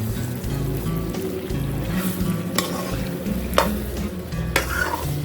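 Duck curry with pumpkin being stirred and fried in a pan, a steady close sizzle with scraping spoon strokes and occasional louder clinks against the pan, no voices.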